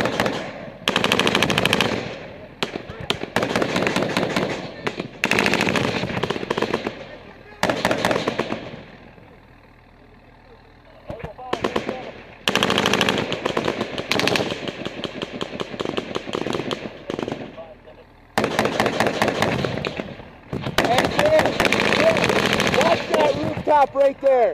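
Rifles and automatic weapons fire during an ambush in Afghanistan: long, loud bursts of rapid gunfire close by, broken by short pauses, with soldiers' voices mixed in.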